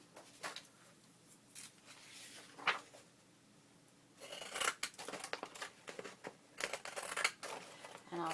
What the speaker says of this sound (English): I can cut the edge with the decorative scissors